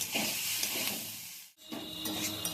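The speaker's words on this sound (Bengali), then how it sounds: "দিয়ে আরও একটু আমি ভাজা ভাজা করব" New small potatoes with mustard and chopped coriander fry in a pan, giving a soft, continuous close hiss and sizzle that briefly cuts out midway before resuming, with light stirring. No one speaks.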